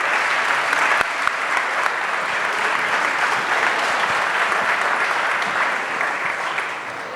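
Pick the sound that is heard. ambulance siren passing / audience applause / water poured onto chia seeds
audience applause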